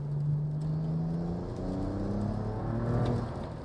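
A BMW E92 335i pulls hard in third gear on a wet road, its engine note rising steadily in pitch with clear harmonics over road and tyre noise, loud and continuous throughout.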